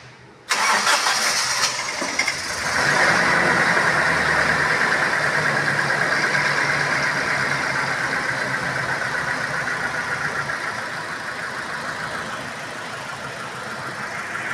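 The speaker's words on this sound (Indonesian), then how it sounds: "Kita hidupkan mesinnya." Car engine cranking and catching on a newly fitted 75 amp battery, then settling into a steady, loud idle with a faint knock that continues alone, easing slightly toward the end.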